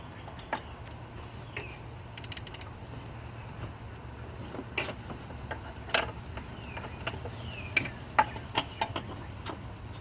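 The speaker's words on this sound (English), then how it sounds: "with two 13mm, we're going to remove the tensioner pulley" 13mm wrench ratcheting tensioner pulley bolts loose on a BMW E46 engine, a series of sharp metallic clicks and ticks scattered irregularly over a low steady hum, close by, with no talking.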